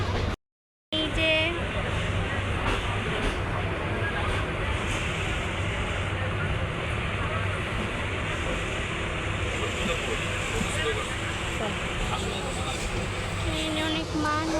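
Inside a moving passenger train bound for Dhaka, a constant loud rumble and rattle of the carriage fills the clip, with a brief dropout near the start and faint squeals.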